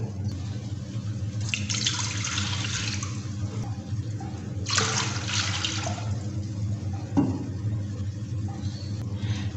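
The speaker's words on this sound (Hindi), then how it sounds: "2 गिलास पानी डालेंगे।" Water is poured from glasses into a cooking pot set over a medium flame, giving two gushing splashes over a steady low background hum.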